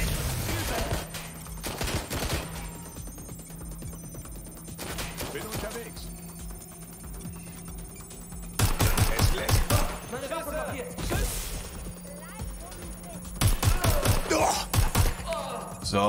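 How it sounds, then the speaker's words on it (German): Rapid bursts of automatic gunfire and thudding impacts in the Watch Dogs Legion video game, loud and repeated in clusters over game music and sound effects. "Ich werde hier beschossen!"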